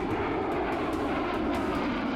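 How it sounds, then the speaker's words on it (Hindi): A US V-22 Osprey tiltrotor runs its engines, producing a steady, loud engine roar with a faint rhythmic rotor thump through it and no talk. "आपको फिर से अमेरिका के V-22 ऑस्प्रे हेलीकॉप्टर दिखाते हैं"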